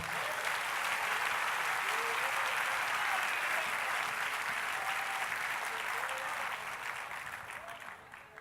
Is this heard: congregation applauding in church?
yes